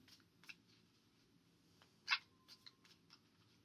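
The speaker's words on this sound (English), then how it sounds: "My cat is meowing in the background." A house cat gives a short, faint meow in the background of a quiet indoor room, a brief isolated cry amid soft scattered rustles.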